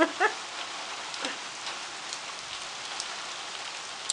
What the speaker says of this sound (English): now, it was raining even harder before, but now it's raining even, even harder.